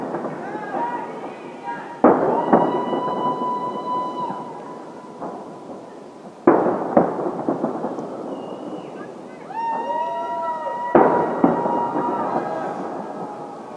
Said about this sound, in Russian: Главное, чтобы взрывы были только от салюта, а не от военных действий.